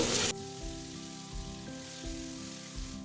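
Onions and chopped tomato hit hot oil in a pan with a loud, brief sizzling burst, then a softer frying hiss continues under steady background music.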